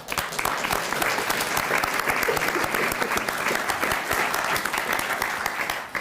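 A crowd applauds steadily at a gun safety advocacy event, dense clapping filling several seconds at a strong, even level without a break.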